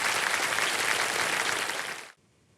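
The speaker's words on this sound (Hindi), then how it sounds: "जोरदार तालियां बज जाएं" Studio audience on a televised quiz show breaks into loud, dense applause that holds steady for about two seconds, then cuts off abruptly into near silence.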